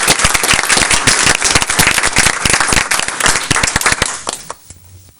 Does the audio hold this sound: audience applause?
yes